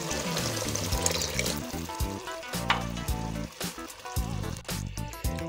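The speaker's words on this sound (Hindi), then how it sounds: "अब इसमें थोड़ा सा हम पानी ऐड करेंगे।" Water is added to mash daal that has been fried in spices, and the pan sizzles and splutters in bursts. The frying crackle is close, with stirring and uneven rises and falls.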